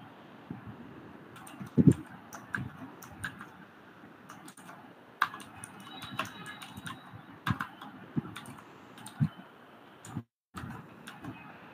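Quiet, steady keystrokes on a computer keyboard while writing code, with irregular clusters of clicks and a few louder key taps.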